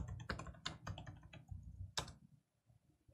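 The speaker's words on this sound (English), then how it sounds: "I'll type in the SSH password." Keys clatter on a computer keyboard as a password is typed, a quick burst of close clicks in an uneven rhythm that stops, followed by a brief pause and one sharp final keystroke.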